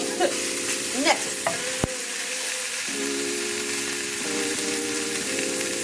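Spinach seasoned with salt and pepper sizzles in a pan, a steady close frying hiss with a few clicks and stirring scrapes early on, no voices.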